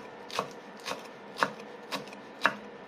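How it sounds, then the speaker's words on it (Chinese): Five sharp knife chops spaced about half a second apart as green onions are cut into small pieces on a board, close and crisp against a quiet background. "将葱切成粒"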